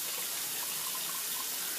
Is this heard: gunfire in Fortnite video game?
no